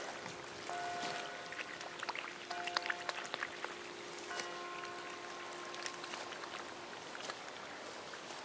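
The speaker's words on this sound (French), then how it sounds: "On leur fait un petit arrosage." Watering sprouted green bean seedlings in a garden, heard as a faint, steady splash and patter of water onto soil, with no talking.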